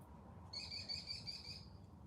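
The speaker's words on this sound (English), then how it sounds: "Trying to have a whole conversation with my birds." Pet birds giving a short, high chirping call lasting about a second, a thin repeated tweet over steady low room noise.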